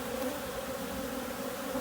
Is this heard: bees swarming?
yes